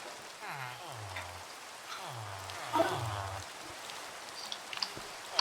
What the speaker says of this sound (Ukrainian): Дощ начався.